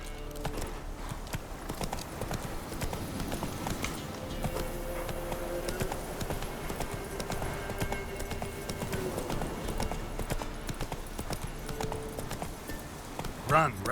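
Roach, Geralt's horse in The Witcher 3, gallops with a rapid, steady clip-clop of hooves. The hoofbeats run throughout, mixed with other game sounds and voices.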